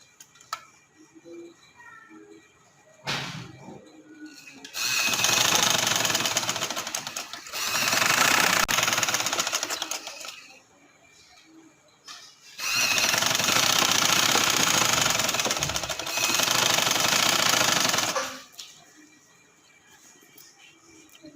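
An electric sewing machine stitches a trouser waistband in two long continuous runs of loud buzzing whir, each lasting several seconds, separated by quiet pauses with small clicks and fabric handling.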